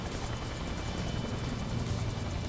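A helicopter in the video game Yakuza produces a steady, close, rapid thudding rotor drone that holds at an even level throughout.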